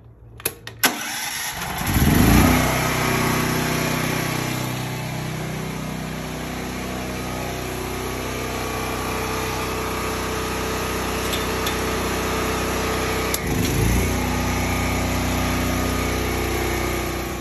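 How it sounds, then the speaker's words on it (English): An 11000 watt backup power generator for a house cranks with a few clunks, catches with a loud burst, then settles into a steady, close, droning run that continues throughout. "Okay, I'm going to start my generator."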